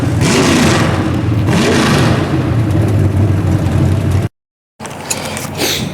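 A carbureted V8 car with a tunnel ram and S10 heads revs hard on a street dyno, two loud rising pulls at part throttle, then a brief cut to silence and more engine noise.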